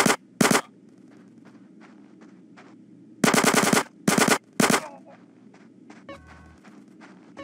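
Rapid bursts of automatic gunfire in a street shootout in GTA San Andreas, several loud sustained volleys separated by short pauses, with footsteps and quieter shots in between.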